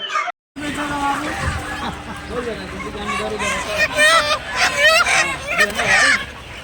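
A busy, crowded poultry market din in New Market, Kolkata, with many voices talking, and chickens clucking and squawking throughout, getting louder toward the end.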